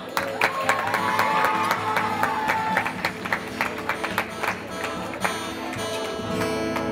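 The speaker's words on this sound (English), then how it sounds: "A round of applause for the dancers." Guests clap and applaud for the dancers at a Bas Mitzvah celebration, a dense sustained wash of handclaps with sharp taps over festive music and crowd noise throughout.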